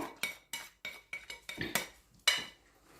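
Onions, parsley and coriander stirred together in a pot, a run of quiet scraping clinks from a spoon against metal, about nine strokes in an uneven rhythm.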